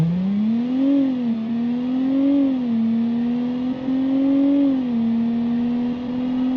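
A video-game car engine, an AMC car in BeamNG, idles and revs gently with a smooth, steady droning tone that rises and falls slightly, heard alone without talk.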